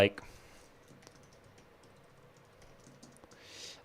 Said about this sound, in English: I'm just typing it into YouTube right now